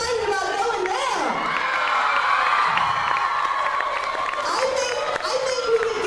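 Crowd of elementary-age children cheering and shouting at a school pep rally, a loud sustained roar of high voices with whoops that swells and holds for several seconds.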